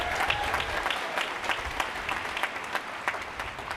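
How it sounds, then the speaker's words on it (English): A large graduation-ceremony crowd applauds the faculty, sustained dense clapping that stays fairly even and moderately distant throughout, with no voices over it. "Please join me in giving them a big round of applause."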